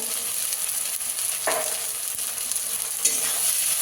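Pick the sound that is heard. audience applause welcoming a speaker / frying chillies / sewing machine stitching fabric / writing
frying chillies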